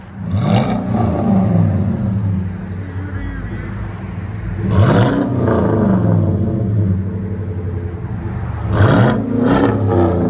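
A Chevy Silverado 6.2L V8 with aftermarket exhaust revs hard three times, deep throaty exhaust rising and falling between steady idling rumble.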